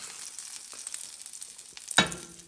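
Eggs fry quietly in a pan of fat while being flipped over easy with a spatula, a soft steady sizzle with one sharp clatter near the end, close by and fairly faint.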